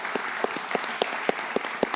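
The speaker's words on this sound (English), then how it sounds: "So I would just like to pause and give a round of applause for this congregation." A church congregation gives a round of applause, heard as evenly spaced, rhythmic claps about four per second, crisp and fairly close over a soft background hum.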